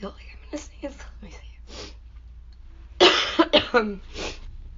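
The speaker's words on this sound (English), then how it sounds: "Or maybe just cough some more." A person who is sick lets out a burst of harsh, close coughs after a few quieter throaty sounds, the coughs loud and clustered near the end.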